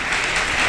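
An audience at a church children's day celebration applauds, a dense, steady wash of clapping heard only for a brief moment.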